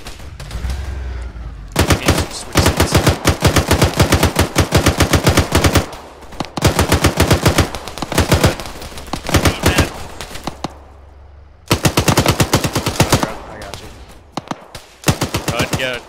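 Video-game machine guns rattle in long, rapid bursts separated by short pauses during a NATO counter-assault battle in Finland, loud and close, with brief quieter gaps between volleys.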